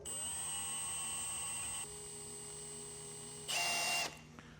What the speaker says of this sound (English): now we're going to slowly drill out each hole on the pilot runner